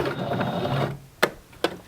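A home sewing machine runs in a short burst of stitching on leotard fabric while backstitching, its motor whirring for about a second before two sharp mechanical clicks.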